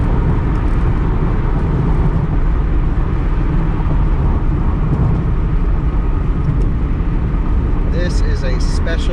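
An original Tesla Roadster electric car drives along with a steady, loud broadband road and wind roar, close and continuous, with people talking over it.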